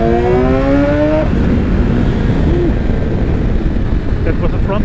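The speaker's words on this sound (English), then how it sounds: "The downshifting is the sound is just great." BMW S1000XR motorcycle with an Akrapovic exhaust downshifting: loud, close engine note whose pitch drops sharply over the first second, then a rough, steady rumble with crackles, mixed with wind noise.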